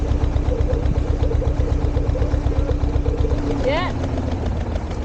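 A canal boat's engine runs with a steady low throb as it revs a little harder. A short word is spoken over the top near the end.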